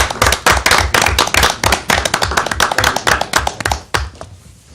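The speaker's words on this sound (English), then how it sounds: "Applause." Applause from a small group at a county board meeting following proclamations, loud and close with distinct individual claps that thin out and fade over the final second.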